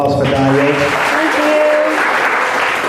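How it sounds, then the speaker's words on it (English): An audience applauds after a Q&A session with DonYé Taylor, dense clapping beneath a speaking voice at the start, then continuing loud and steady on its own. "Another round of applause for DonYé."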